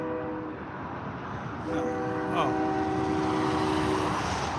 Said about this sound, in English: That train over there might be more interesting than what we're doing.